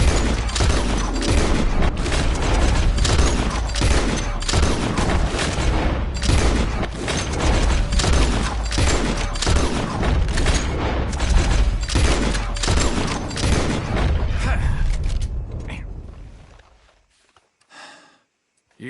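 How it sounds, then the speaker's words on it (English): Rapid gunshots in a Red Dead Redemption 2 shooting contest ring out in a long, dense string of loud cracks for about fifteen seconds, then thin out and stop, leaving near silence with a last faint sound. "As soon as you see them, start shooting."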